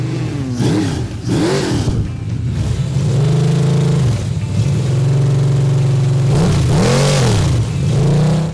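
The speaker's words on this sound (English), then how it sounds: "They hear an engine fired up" A loud hot rod engine on an engine stand at the Grand National Roadster Show cranks and catches, then revs repeatedly in rising and falling surges, settling into a throaty rumble between throttle blips.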